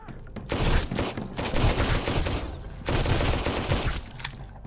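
Dense bursts of automatic gunfire and overlapping shots rattle almost without pause during a hectic fight in the survival game Sunkenland, loud and close, with brief gaps between volleys.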